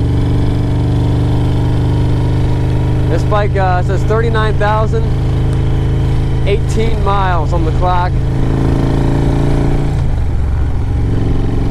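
A 2007 Harley-Davidson Road Glide with a Screaming Eagle 113 motor runs throughout, a steady low engine drone with wind rush as someone talks over it.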